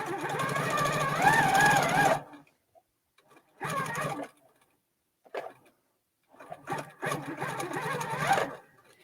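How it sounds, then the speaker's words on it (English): A Platinum Q160 quilting machine stitches in loud, close bursts, its rapid mechanical whirr starting and stopping in three runs separated by brief pauses. "And then I'm going to take a few stitches in place. And then I'm just going to stitch down"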